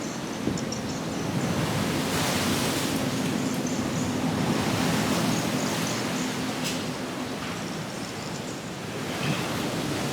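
Steady roar of surf along a mangrove-planted shoreline in Pantura, West Kalimantan, continuous broadband wash with some wind, no voices.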